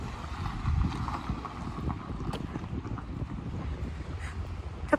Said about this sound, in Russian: Дождя нету, но ветер.